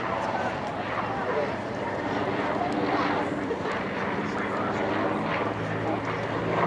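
A WWII Corsair fighter plane makes a photo pass at a WWII weekend air show, its propeller engine a steady loud drone throughout while an announcer talks over it.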